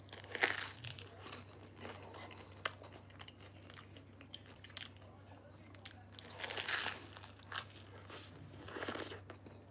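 Crunchy bites into garlic toast topped with tomato sauce, cheese and ham, a few crisp crunches with chewing between them, close and fairly quiet over a steady low hum.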